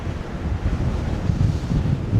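Strong coastal wind buffets the microphones in a steady, close, rumbling roar that gusts unevenly for the whole stretch, with no voices over it.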